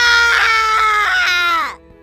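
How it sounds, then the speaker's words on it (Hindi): A loud, sustained scream rings out inside a house in a horror story, wavering in pitch before cutting off abruptly near the end. "घर में से एक जोर की चीख सुनाई देती है।"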